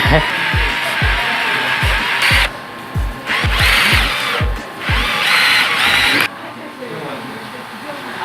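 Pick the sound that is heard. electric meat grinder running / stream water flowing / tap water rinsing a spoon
electric meat grinder running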